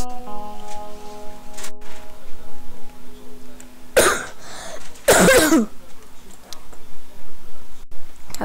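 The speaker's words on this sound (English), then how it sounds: "Have a bit of a cough." One person in a Minecraft play session gives two sharp, loud coughs close to the microphone, about a second apart. A steady tone and quiet ticking sound run underneath, and there is faint talk.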